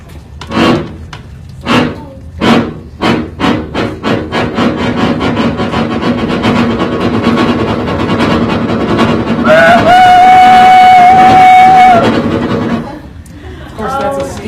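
Accordion bellows shaken to imitate a steam train: rhythmic chuffing bursts speeding up into a continuous churn, then a sustained whistle-like chord, loud and close, with voices in the background.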